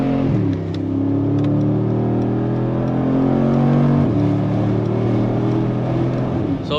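Brabus G700 G-Wagon engine revving on the autobahn, a loud, steady exhaust drone that dips and climbs in pitch, with a few brief sharp crackles mixed into the close roar.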